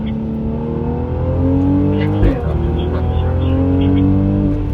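A Mercedes-Benz C43 AMG engine accelerating hard on a racetrack, heard from the cockpit as a loud, steady, rising drone with a brief blip midway as it keeps pulling.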